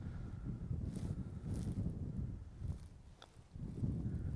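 Wind gusting across an open golf course, a steady low rush that rises and falls in broad swells and fills the whole stretch, fairly loud at the microphone, with no speech.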